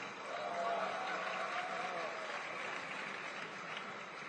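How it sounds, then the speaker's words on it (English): Conference audience in a large hall clapping, a steady dense wash of applause that stays fairly even and moderately distant throughout, with no voices over it. "Let me hear some more claps"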